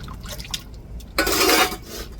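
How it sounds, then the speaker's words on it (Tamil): Water poured into a pot of Indian salmon fish curry, a short splashing pour of about half a second after quieter kitchen clinks, fairly close and alone. "இப்போ குழம்புக்கு தேவையான தண்ணி சேர்த்துக்கிடுவோங்க"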